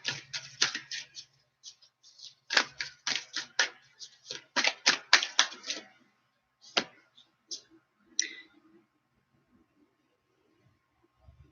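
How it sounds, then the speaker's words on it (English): Moonology oracle cards shuffled by hand, with bursts of quick riffling clicks in the first half, then a few isolated card taps and slides, close and fairly faint, fading into near silence. "Let's get a Moonology card for this week."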